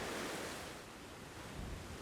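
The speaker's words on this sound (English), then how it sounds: "I'm glad it's windy today." Wind rushes steadily across a mountainside near Taipei, a broad, even roar with small gusty swells and no voices.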